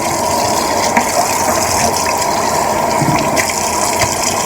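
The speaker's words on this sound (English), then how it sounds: "So with my ribs, well, I like to rinse them off really good." Raw pork ribs rinsed under a running kitchen tap, a steady continuous splash and gush of water lasting throughout, close and fairly loud with no talk.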